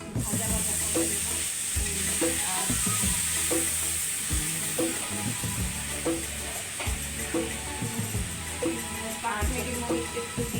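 Boiled potatoes fry in a pan with a little water and spices, giving a steady loud sizzle with repeated scraping and stirring strokes of a spatula throughout.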